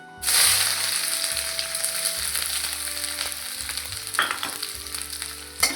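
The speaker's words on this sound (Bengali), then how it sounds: "একটু নাড়িয়ে চাড়িয়ে পেঁয়াজটাকে একটু হাফ ভেজে নেব" Chopped onions fry in hot oil with spices for a pui shak chorchori, giving a loud, continuous sizzle that runs the whole time, broken by scraping stirs in the pan, with no talking.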